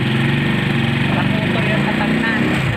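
A saw engine runs close by with a steady, buzzing drone, while people talk over it.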